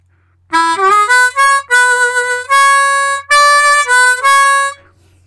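Blues harmonica playing phrases from a song: a run of bent and sustained reed notes in quick, connected bursts, loud and close, ending with a held note that fades, with no talking.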